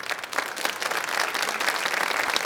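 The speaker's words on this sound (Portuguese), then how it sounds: "Vamos aplaudir o Senhor por isso" A church congregation at a Portuguese sermon claps together in praise, a full, continuous patter of many hands that swells slightly as it goes on, heard alone without speech.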